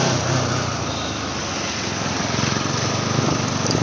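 Motorbike engine droning steadily and loudly while riding, a constant close roar mixed with wind noise, no speech over it.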